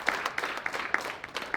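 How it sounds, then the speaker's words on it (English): Scattered applause at a school winter sports awards ceremony as a girl receives her award: a moderate, uneven patter of claps from a modest crowd, with a few sharper individual claps standing out. "Let's give her a round of applause."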